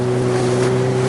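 A motorboat planing fast across open water, its engine droning steadily under constant splashing spray and wind noise, close and loud, with no talk.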